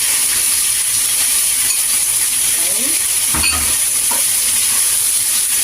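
Pork pieces, fried already, tipped into a hot pan for pork steak and stirred, giving a steady close sizzle and hiss with a few scraping stir sounds and a brief clatter, no talking.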